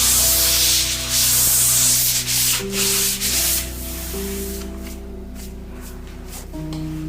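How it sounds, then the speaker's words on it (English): Sandpaper rubbed by hand over an old interior surface to remove residue before vinyl film is applied; steady, close scratchy strokes fill the clip, with a hum running underneath. "Sandpaper should be applied to remove foreign substances from the entire background."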